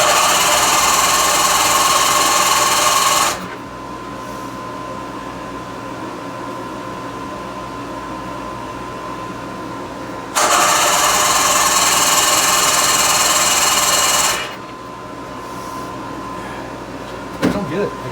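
A manually choked 20 hp Mercury outboard with a freshly rebuilt carburetor runs in two loud, steady bursts of several seconds each. Each run cuts off abruptly into a quieter, droning background, and a brief knock sounds at the very end.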